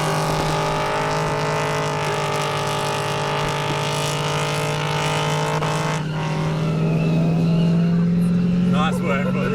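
A Holden VT Commodore with an LS1 V8 at a Powercruise event runs hard on blown tyres with wheelspin, its engine a loud sustained drone with squealing rubber, while spectators talk nearby.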